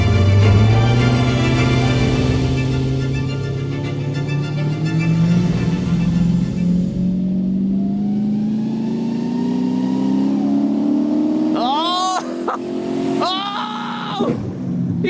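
A Jeep engine accelerates hard while racing another Jeep, its pitch climbing steadily over many seconds, loud and close, with brief bursts of voices shouting near the end.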